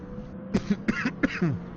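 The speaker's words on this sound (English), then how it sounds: "Oh, I hate with this cough, it's driving me nuts." A person coughs several times in a short, hoarse series of close, rough bursts.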